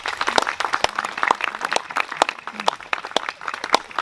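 An outdoor crowd at a July 4 ceremony at George Washington's tomb applauds chapter regents, steady scattered clapping of moderate loudness, heard from somewhat near with many individual claps standing out, and no voices.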